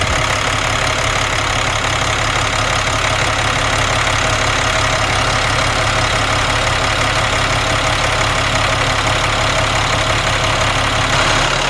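A small RC diesel engine idles steadily and evenly for several seconds, a continuous low rumble close to the listener, with no talk over it.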